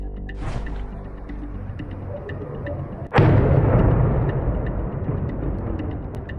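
An explosion in Dzhankoi, Crimea, booms sharply mid-way through a distant background rumble and rolls into a long, loud, decaying roar, preceded by a faint earlier whoosh.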